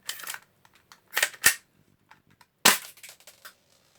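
A BB gun shoots at a homemade metal target: a few sharp snapping shots with short rustles and clicks between them, close and loud, with no talking.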